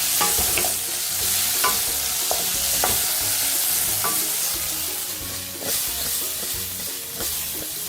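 Canned sweet corn cooking in a pan, a steady close frying sizzle with repeated scraping strokes of a utensil stirring it, no talking.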